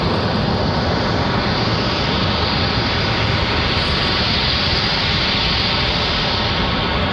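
A Globe X jet rotating on takeoff from Raleigh-Durham gives a loud, unbroken broadband engine roar that holds at full strength throughout, heard alone with no voices.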